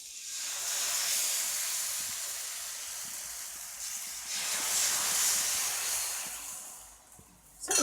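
Millet onion dosa batter sizzles on a hot pan, a steady loud hiss that swells and eases over several seconds, with no voices.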